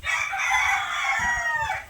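A chicken crows loudly and nearby in one long, sweeping call, with low clucking underneath, as hens are put into a delivery box.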